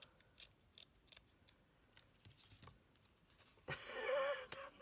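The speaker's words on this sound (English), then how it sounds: "Could really do with really sharp scissors, but I quite like that it's a bit rough." Scissors snipping through paper for a junk journal envelope pocket, a burst of rough crisp cuts near the end after faint quiet rustling, close and moderately loud.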